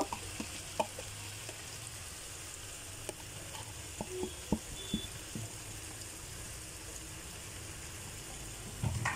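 Beaten egg frying in a pan for fried rice, with a steady soft sizzle and scattered light clicks of stirring; faint and even throughout, no talking.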